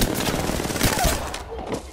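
Rapid gunfire crackles during the final fight of a battle royale video game, a fast string of shots bunched together and fading toward the end.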